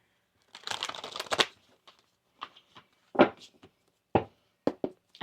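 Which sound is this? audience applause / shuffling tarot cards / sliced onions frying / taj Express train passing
shuffling tarot cards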